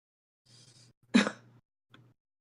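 A single short, sharp cough bursts out close to the microphone among faint murmured speech, followed a moment later by a softer small throat sound.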